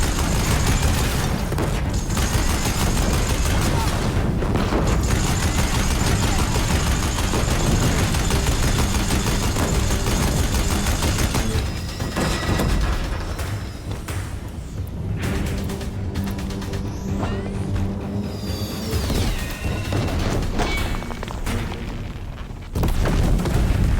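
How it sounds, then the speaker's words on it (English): Deathbringer war machines in Horizon Zero Dawn pound a bridge with sustained heavy fire: dense, loud booms and rapid gunfire roll on almost without pause, with brief gaps and a thinner stretch partway through. "If the Deathbringers keep firing, this bridge will go."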